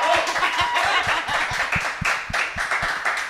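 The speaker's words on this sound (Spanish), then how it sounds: "Pues vamos a darle un aplauso a Gabriela Johnson." Studio audience applause on a Spanish-language podcast set, a steady patter of many hands clapping close by for about three seconds with no talking over it.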